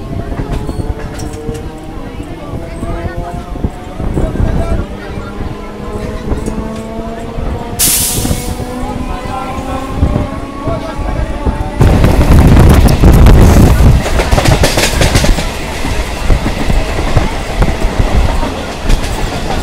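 A Shantipur–Ranaghat local train arrives at Kalinarayanpur junction with a loud, continuous rumble and rhythmic wheel clatter close by. A bright hiss bursts out around the midpoint, and the roar swells heavier toward the end.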